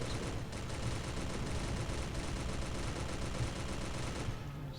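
Rapid, continuous gunfire in the Gunpie Adventure video game, a dense stream of quick shots in an even rhythm that carries on loudly for several seconds before cutting off, with no voices over it.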